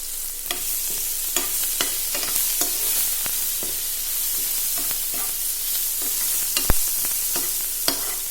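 Curry leaves sizzle and crackle steadily in hot oil, with sharp pops and occasional stirring scrapes; no voices.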